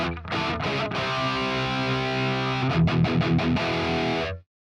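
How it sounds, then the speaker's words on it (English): An electric guitar played through a Quad Cortex modeling a mid-heavy Marshall amp gives a thick, distorted tone: sustained ringing chords, then a quick run of choppy strums before it cuts off abruptly. "Nice mid-heavy Marshall tone."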